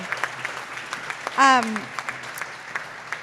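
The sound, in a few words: audience applause for presenters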